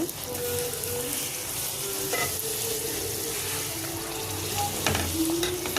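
Carrot puri frying in hot oil, a steady close sizzle and bubbling that holds at an even level throughout, with occasional light clinks, and no talk.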